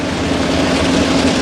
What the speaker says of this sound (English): That's a loud train. It's actually right below me.